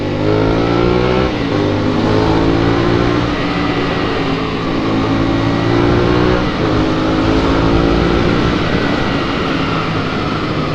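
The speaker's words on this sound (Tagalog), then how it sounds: "Sakit ng tunog talaga ng pipe ni Ken." A big bike motorcycle with a loud aftermarket exhaust pipe revs up and down repeatedly, rising and falling tones, close and raw, with no voices.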